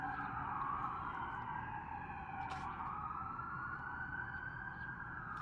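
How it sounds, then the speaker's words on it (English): A wailing siren rises and falls steadily over a constant backdrop of road noise, moderately distant and sustained throughout. "I hear the sirens coming."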